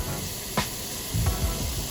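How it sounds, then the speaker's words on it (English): Garlic, about a teaspoon, sizzling in hot oil in a pan, with flour sprinkled in soon after; a steady close hiss with brief louder crackling bursts. "You hear that nice sizzle?"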